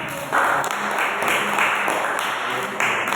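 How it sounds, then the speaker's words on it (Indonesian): A classroom of students claps for a student group after their discussion presentation, a steady burst of applause filling the room with faint voices mixed in. "Yuk, kasih tepuk tangan untuk kelompok."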